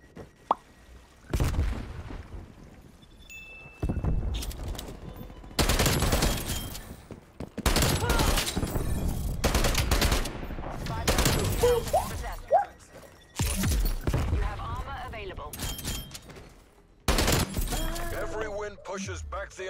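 Tec 9 gunfire rings out in Call of Duty Cold War Search and Destroy, with repeated loud bursts of rapid shots and gaps between them, and a voice talks over the action.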